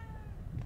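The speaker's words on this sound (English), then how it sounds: "Let me see if my cat's back." A cat meows once, short and faint, inside the survival horror game The Evil Within 2, over a low background hum.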